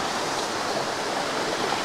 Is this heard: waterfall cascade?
yes